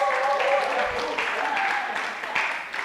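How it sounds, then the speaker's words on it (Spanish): Church audience applauds a performer named Manuel, the clapping mixed with voices and crowd murmur across a few seconds, moderately loud and reverberant. "Un aplauso al Manuel, por favor."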